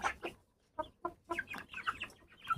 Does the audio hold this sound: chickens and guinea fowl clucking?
yes